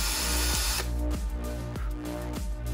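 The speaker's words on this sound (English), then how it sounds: "We have a drill. Let's get this over with." A power drill whines steadily as it bores out a stripped screw on a MacBook, the motor pitch dipping in short rhythmic bursts as the bit bites into the metal, loud and close with no talking.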